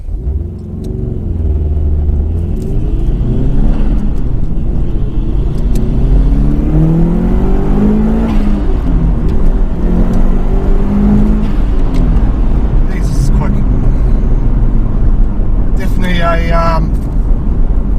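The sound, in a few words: 2002 Subaru WRX STi Prodrive Edition accelerating hard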